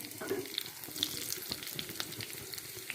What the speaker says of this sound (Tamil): குழம்புக்கு ஒரு தாளிப்பு கொடுத்துடலாம் கருவேப்பிலை சேர்த்து வரலாம் இதில் வந்து கடுகு அப்புறமா சின்ன வெங்காயம் நான் சேர்த்துருக்கேன்